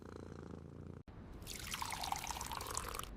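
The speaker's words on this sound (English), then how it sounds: "I water the plants today." Water pouring steadily onto potted plants during household watering, a close, bright splashing stream that starts after a brief pause and runs on for about two seconds.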